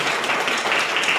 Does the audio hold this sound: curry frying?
no